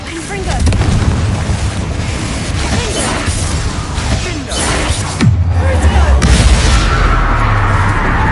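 A Confringo blasting spell fires in the video game Hogwarts Legacy. Loud booming blasts and crashing impacts repeat over a continuous rumble. A voice speaks the spell name partway through.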